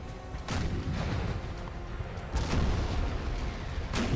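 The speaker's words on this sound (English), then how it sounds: "This 6-pounder was firing this direction." Six-pounder cannon fire from a Napoleonic-era battle in the Napoleon Total War strategy game, with several distant booms over a constant rumbling battlefield bed and no talk.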